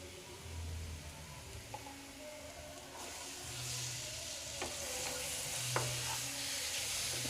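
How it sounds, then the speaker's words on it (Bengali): Motichur laddu mixture being stirred with ghee in a kadai over a high flame: a steady soft sizzle with scraping strokes of the spoon and occasional clicks, fairly quiet and continuous, with no voices. "এটা একটু ভালো করে মিক্স করে নেব যাতে কড়া থেকে ছেড়ে যাবে সেই সময় পর্যন্ত"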